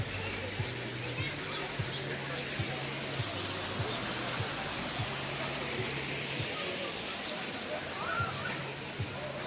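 Steady stream water flows beside a picnic garden, a continuous broadband rush close by with a repeating low mechanical hum underneath and no talk.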